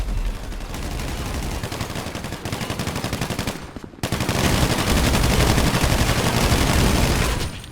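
Rapid, dense automatic gunfire in a GTA 5 Online team shootout, with continuous bursts of shots filling the whole stretch, a brief break near the middle and then even louder sustained firing.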